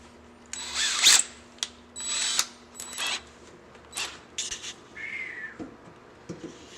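Drill bit boring holes for pop nuts during a BMW performance handbrake install, heard as several short bursts of drilling with pauses between, close and moderately loud, with some clicks and handling noise.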